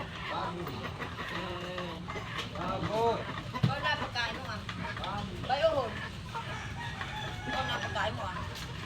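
Chickens clucking and a rooster crowing nearby, with people talking over the birds throughout.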